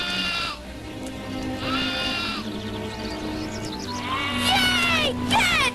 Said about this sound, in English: Goat herd.